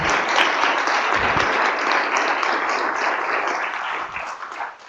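A meeting audience applauds in a dense, sustained round of clapping that fills the room and tapers off toward the end.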